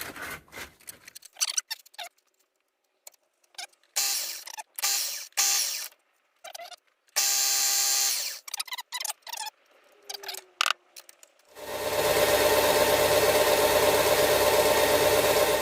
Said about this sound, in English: It'll help me sand these up a bit quicker.